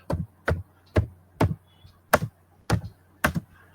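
Seven distinct keystrokes on a computer keyboard while a UNIX find command is entered, evenly spaced clicky taps about half a second apart, close and clear with no voices.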